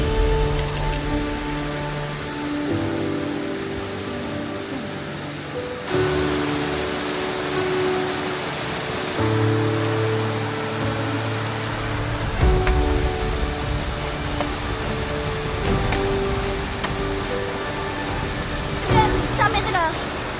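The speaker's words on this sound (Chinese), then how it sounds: "旁边可是潺潺溪水啊！" Broadband rushing water from a babbling stream and waterfalls in the Amedaki gorge (Tentaki Valley) of Japan, steady and fairly loud throughout, with people talking intermittently over it.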